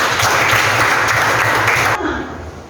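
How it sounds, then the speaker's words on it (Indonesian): A crowd claps steadily for about two seconds, then the applause quickly thins and fades out. "tepuk tangan dulu buat dia"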